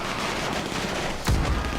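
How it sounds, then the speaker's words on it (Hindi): Gunfire in the video game GTA 5 comes as a dense, noisy rattle of shots, with a sharper, heavier burst near the end. "और कितनी गोलियां चल रही है यार।"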